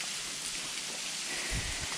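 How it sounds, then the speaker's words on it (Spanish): Water rains down steadily inside a bat cave, a soft, even hiss of falling drops with a few low splashes near the end. "Estoy lloviendo dentro de la cueva"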